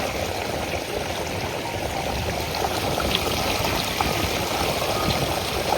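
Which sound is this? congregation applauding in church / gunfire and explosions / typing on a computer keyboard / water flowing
water flowing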